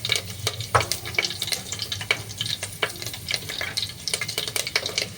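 Curry leaves and crushed garlic fry in hot oil, a steady close sizzle broken by repeated scraping stirs of a spoon in the pan, with no voices.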